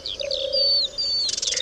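Dartford warbler singing in heathland at Ploufragan near Saint-Brieuc: a string of thin, high chirps and drawn-out whistled notes, fairly near and clear over a low steady hum, ending in a scratchy burst.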